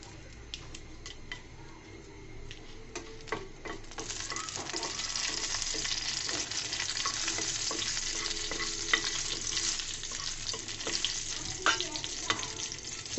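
Two dried red chillies, torn in half, fry in hot oil in a pan, giving a steady close sizzle dotted with frequent small crackles and pops that grows slightly busier as it goes.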